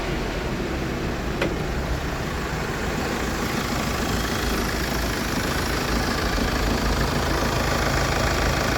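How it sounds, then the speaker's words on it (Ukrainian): The 2.0-litre D4HA diesel engine of a 2010 Kia Sportage idles steadily up close, a continuous low rumble with an even, slightly knocking rhythm throughout, no voices. "Мотор працює рівно,"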